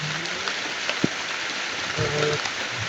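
Steady, dense hiss of heavy rain pouring down, with a few faint voices and knocks underneath.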